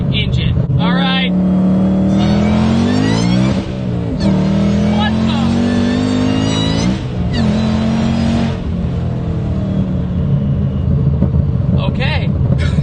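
A revving car engine with a Whipple supercharger on a bone stock engine making 740 to the tire on pump gas, rising whine and roar sustained loud and close, with brief dips between pulls.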